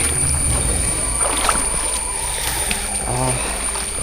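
Water sloshing and splashing as trekkers wade through a small, shallow, cold river crossing on the way to Dudhsagar Falls, a steady close wash of water with footsteps and voices talking over it.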